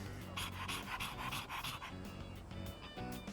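A dog in the video game Persona 3 Reload pants in quick, rhythmic breaths, close and fairly quiet, with no voices over it.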